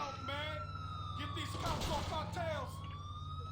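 Police siren in a GTA video game, wailing and rising and falling as it chases the player, with other game sounds and a brief burst of noise partway through.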